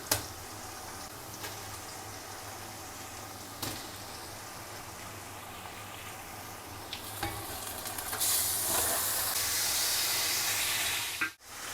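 Mutton hisses and sizzles steadily as it goes into a pot of softened onions for a Muharram degi haleem, the frying loud and continuous with occasional stirring knocks and a brighter surge of sizzle near the end.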